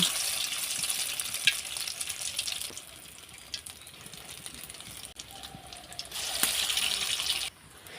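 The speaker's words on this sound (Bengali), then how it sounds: "এটা হালকা জালে ভাজতে হবে, না হলে এক সাইড পোড়া যাবে" Round pieces of bread dipped in egg fry in hot oil over a low flame, a steady close hissing sizzle that swells and eases, with no voices.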